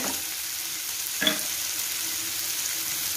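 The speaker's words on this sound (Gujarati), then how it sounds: "ટામેટા થોડા પહેલા પડે ત્યાં સુધી આપણે શેકશું" Tomatoes frying in a pan for paneer bhurji give a continuous close sizzle, with one brief knock of a spoon or stirring near the middle and no one speaking.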